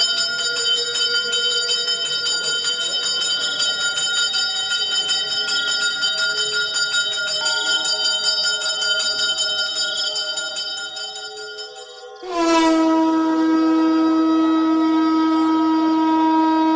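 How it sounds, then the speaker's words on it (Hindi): Temple bells ring on their own in a continuous shimmering peal, then a loud fresh strike near the end sets off a bright, long-decaying ring. "मंदिर की सारी घंटियां खुद ब खुद बजने लगती हैं।"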